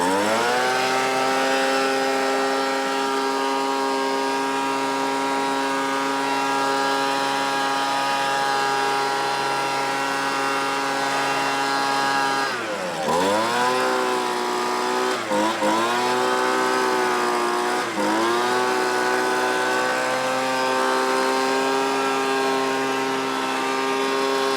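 A small two-stroke engine on a Homelite ZR leaf blower drones steadily at a high, buzzy pitch, then revs up and down a few times with short dips in tone, loud and close.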